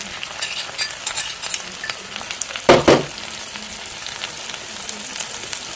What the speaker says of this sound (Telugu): కమ్మటి వాసన వచ్చే వరకు వేయించుకోండి